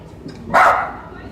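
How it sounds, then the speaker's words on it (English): A neighbor's dog gives a single short bark off to the side, a brief sharp burst rising over a quiet background. "I don't know what's causing my neighbor's dog to go like that"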